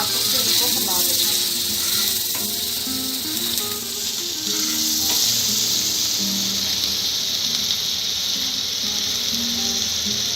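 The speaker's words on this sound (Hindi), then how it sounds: "अब जो प्याज थे ये डाल देंगे।" Onions tipped into a hot pan of stuffed okra for bhindi do pyaza, giving a steady broadband sizzle and hiss that runs loud throughout, with a voice talking over it.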